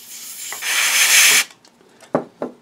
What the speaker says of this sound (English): So I'm just going to come along and spray in here really quick.